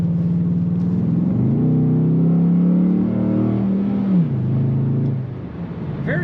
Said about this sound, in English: Nice rumble coming out the back of this car.